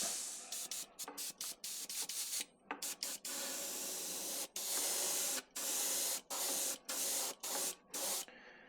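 Airbrush spraying pearl paint onto a jerkbait in short, close hissing bursts separated by brief pauses, quiet and steady with no voices.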